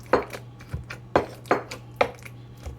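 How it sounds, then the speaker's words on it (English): A fork mashes ripe avocado for chunky guacamole with tomatoes and onions, striking a bowl in a rhythmic series of sharp clinks and soft squelching thuds. Each stroke is distinct and close, with no talking. "The goal or the purpose is really to mash up the avocado, which was already pretty ripe."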